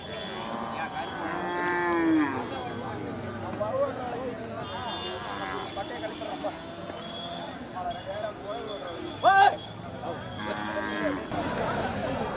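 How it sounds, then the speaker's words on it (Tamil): Cart bullocks at the Chettithangal cattle market moo loudly several times, with a busy crowd talking all around them. "என்ன இது யார் மாடா? வண்டி மாடு."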